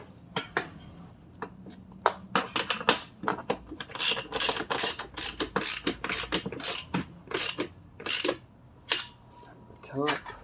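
Ratcheting clicks from tightening bolts on the metal panels of a Vego raised garden bed, sharp mechanical bursts repeating in quick irregular runs, close and fairly loud, with a faint voice now and then.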